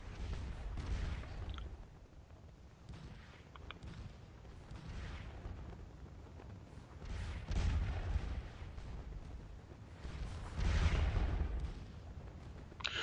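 Napoleonic artillery batteries firing in the Scourge of War Waterloo game, with repeated heavy booms rolling out at irregular intervals over a low rumbling battlefield background and no voices.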